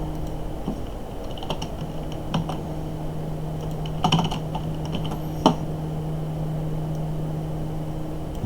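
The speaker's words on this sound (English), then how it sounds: "go ahead and type that up" Sparse keystrokes on a computer keyboard as code is entered, a few scattered clicks and short bursts over a steady low hum, fairly quiet and close.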